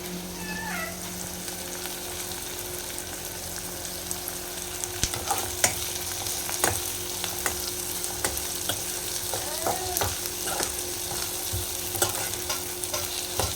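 Onions, green and dry chilies, ginger and garlic fry in a pan, a steady close sizzle with occasional stirring scrapes and pops, no talk.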